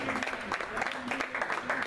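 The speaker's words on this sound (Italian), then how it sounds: "accogliamolo con un applauso, Andrea Marucca." Audience at a football club team presentation applauds to welcome the sports director, a steady crowd clapping with a voice talking over it.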